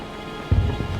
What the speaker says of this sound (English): Looks like somebody bought out all of the Weasleys' wildfire whiz-bangs.